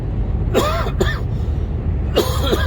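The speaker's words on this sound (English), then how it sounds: "Still coughing." Three short, harsh coughs come in two bursts, close and fairly loud, over a low rumbling background.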